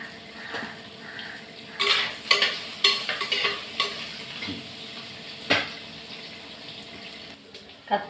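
Brinjal (eggplant) frying in oil, a steady sizzle with a run of louder stirring scrapes and spatula knocks through the middle, wet and close; no speech is heard.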